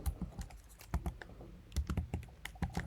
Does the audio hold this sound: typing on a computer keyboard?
yes